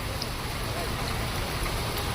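Heavy rain falling in Hyderabad, a constant dense hiss with no pauses, filling the whole background evenly.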